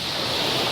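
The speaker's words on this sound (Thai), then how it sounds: "ตรงนี้คลื่นจะใหญ่หน่อยครับ" Large ocean waves break on the shore at the end of a bay in Satun, a loud, continuous wash of surf mixed with wind buffeting, heard close for under a second.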